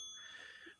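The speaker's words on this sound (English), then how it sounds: "this is a light bell because it's earlier in the day" A light bell sound effect used during a wrestling pay-per-view review, a single faint, bright ring that sustains briefly and fades, heard alone.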